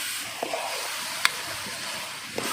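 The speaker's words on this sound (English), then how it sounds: "So the entire lump of ginger garlic paste goes into this brown fried onions" Ginger garlic paste sizzles in a pan of brown fried onions for a farm-style mutton dum biryani, a steady close hiss with a few soft pops and crackles throughout.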